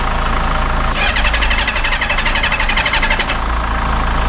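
A motorcycle engine cranks and catches, then runs roughly at idle with a steady, close mechanical knocking rumble and no voices over it.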